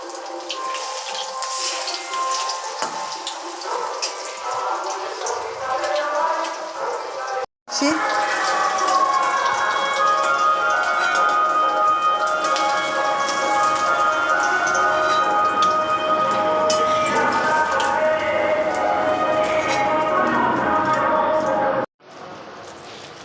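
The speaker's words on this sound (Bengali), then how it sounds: "ভাজা হয়ে গেছে, আমি উল্টে দিচ্ছি।" Battered pieces deep-frying in oil after being flipped make a loud, dense, rain-like crackling sizzle that carries on steadily and close, broken by two brief silent gaps.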